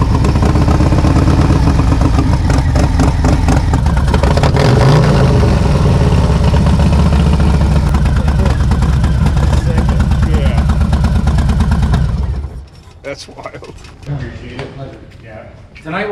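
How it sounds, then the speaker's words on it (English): A Harley-Davidson Low Rider ST with a stage 4 upgrade and Dasani exhaust runs loud and close, a dense steady engine rumble for about twelve seconds before cutting off abruptly, leaving quieter clatter and voices in the background. "Now, just start your bike."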